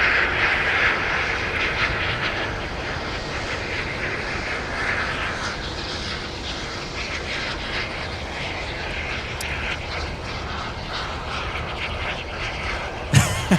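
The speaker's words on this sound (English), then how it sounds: "The A330 takeoffs that we spot here at MSP, they can be loud." An Airbus A330 jet takes off at MSP airport, its engines a loud, steady broadband roar that holds throughout, with a sharp click near the end.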